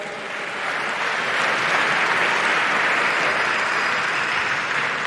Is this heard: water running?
no